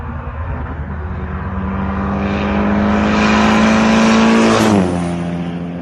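Turbocharged F20B-swapped Honda Accord CB7 racing a Mustang, engine droning loud and steady as it pulls hard, pitch climbing slowly before a sharp shift or lift near the end.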